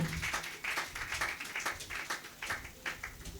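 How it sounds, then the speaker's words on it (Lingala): A church congregation claps and cheers in praise, with loose rhythmic bursts of applause rising and falling steadily and close by. "Acclamons Dieu."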